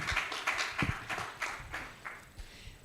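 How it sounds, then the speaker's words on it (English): Audience applause at a disability inclusion conference in Nigeria, a scattered run of individual claps rising and thinning out, moderately distant and fairly quiet. "Please, a very round sounding applause"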